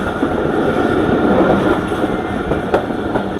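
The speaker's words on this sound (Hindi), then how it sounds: "शादीपल्ली रेलवे स्टेशन पर पहुँच रही है हमारी ट्रेन मारवी पैसेंजर" The Marvi Passenger train pulls into Shadipalli railway station in Pakistan with a loud, steady rumble of wheels and carriages and a few sharp metallic clanks near the end.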